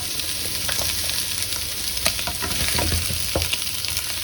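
Garlic fries in a pan on an electric stove while being stirred, producing a continuous close sizzle with scattered scraping and clicking strokes from the utensil and no speech.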